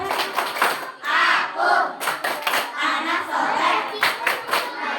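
Children performing the 'Tepuk anak soleh' clapping chant at a Muharram school arts show, a group shouting in rhythmic bursts with hand claps between them, loud and close.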